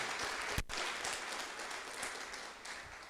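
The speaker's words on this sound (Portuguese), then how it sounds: "Agora eu não estou falando só do Renato, então aplauda com força." A church congregation in Telêmaco Borba, Brazil applauds steadily for about three seconds, a dense wash of many hands clapping at a moderate distance, with a sharp knock near the start and no talking.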